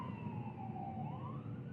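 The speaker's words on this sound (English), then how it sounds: "we've got some sirens" An emergency vehicle siren on a highway wails in a slow rising and falling sweep, faint and distant over a steady low rumble of traffic.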